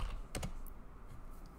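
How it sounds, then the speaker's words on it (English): A few quiet keystrokes on a computer keyboard, with a distinct pair of clicks near the start and fainter taps after, alone in a quiet room. "So let's just type"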